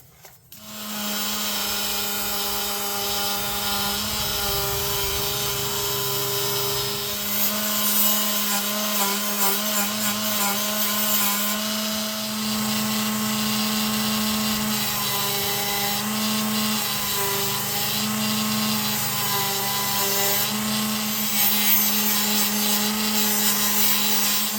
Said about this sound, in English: I set up my big Dremel to do the work right here.